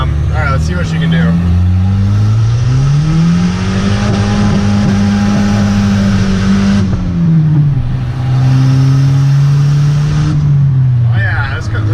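Turbocharged Volvo 740 with an IPD turbo cam accelerating hard: a loud, steady engine drone rises in pitch through the revs, drops briefly at a gear change, then climbs again, close and continuous throughout.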